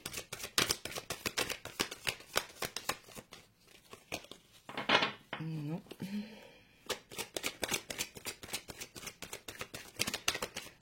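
Tarot cards are shuffled in quick, rhythmic riffles and flicks, with a voice speaking briefly during a pause in the middle, close and clear.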